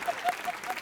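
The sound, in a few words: audience applause on a TV show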